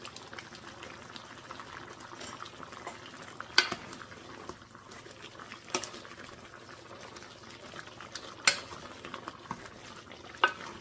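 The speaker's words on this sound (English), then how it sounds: "Stir it well so that the spices get mixed, and let it cook on the open stove." A spoon stirs coarsely powdered cardamom, cloves and black pepper in a pot on an open stove while chicken fry cooks, making a soft steady sizzle with a few faint scrapes and clinks against the pot.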